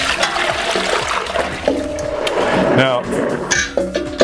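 Cold tap water runs steadily into a pot being filled to rinse a hairpiece, a continuous watery rush under a man's nearby speech.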